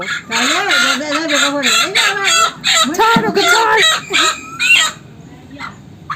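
Several chickens, including a newly bought hen covered under a basin at a garden house, cluck and crow loudly and close by in quick bursts for most of the clip before the sound drops away near the end.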